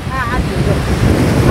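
Sea surf breaking against the rocky shore near Porbandar on the Gujarat coast, with wind buffeting the microphone, a steady, loud roar throughout.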